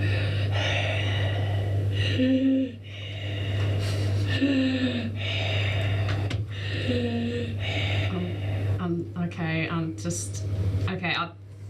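A voice imitates heavy, rasping breathing, several drawn-out breaths in a slow rhythm, close and loud over a steady low hum, as someone looms behind a listener during a fantasy tabletop role-playing session.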